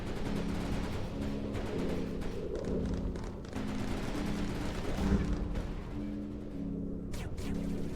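Turrets in the game Mindustry fire steadily, with repeated soft thumps and taps over a constant low mechanical hum, fairly quiet and continuous throughout.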